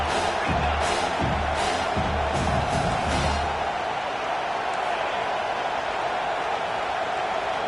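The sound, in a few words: stadium crowd cheering in football video game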